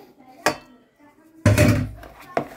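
A spoon stirs a basbousa mixture into flour, giving a few dull knocks and scrapes against the bowl at irregular moments, with a voice speaking in between.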